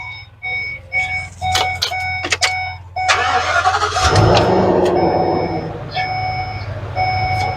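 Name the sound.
Ford E350 motorhome engine starting up and running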